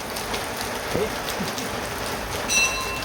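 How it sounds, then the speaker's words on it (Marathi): Rain falls near a temple while people shelter under a tin-sheet roof gutter, a steady close patter with a brief faint voice partway through. "तिथं बस पाऊस चालू आहे थांब थोडासा पाऊस जाऊ दे"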